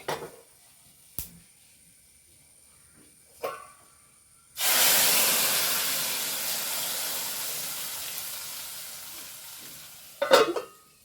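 Kalan is stirred in a pan on a gas stove: a few sharp scrapes, then a sudden loud sizzling hiss that slowly fades, and a final burst of scraping at the end.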